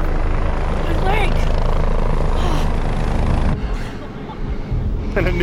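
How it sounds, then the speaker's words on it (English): A news helicopter arrives in the video game The Division, its steady rotor thrum and engine rumble loud and continuous under crowd noise and chatter, easing briefly before swelling again. "And a news helicopter comes in."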